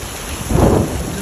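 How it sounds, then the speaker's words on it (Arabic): Heavy rain south of Taif pours as a loud, dense roar with a low rumbling swell midway, like thunder or a gust, and no talk. "امطار غزيره"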